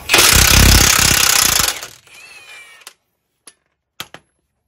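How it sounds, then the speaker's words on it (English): Impact wrench on a Dodge Ram 1500 front end, removing a 27 mm lower ball joint nut: a loud, close, rapid hammering burst lasting under two seconds, then a softer whir and a few sharp metallic clinks. "We're gonna use the impact for that. So just gonna put it on the nut and remove it."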